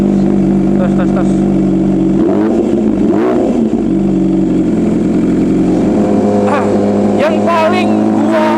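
An MV Agusta Brutale 1000 motorcycle engine idles loudly and steadily, with several sharp throttle blips and revs swelling and falling, under occasional talk.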